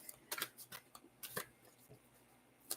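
Oracle cards being shuffled by hand, a quiet series of short crisp riffling flicks and slaps in uneven bursts, close and faint with no talk.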